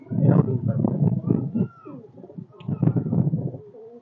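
A pair of small high-flyer pigeons coo close by in two low, throaty, rolling bursts, with a brief pause between.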